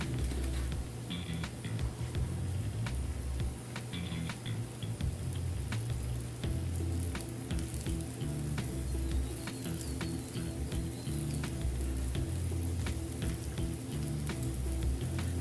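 A quesadilla made with one tortilla and cheese sizzles steadily in a pan, a continuous crackling fry with scattered sharp pops, fairly quiet and with no talking.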